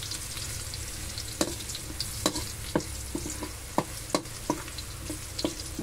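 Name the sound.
stirring frying pork in a pan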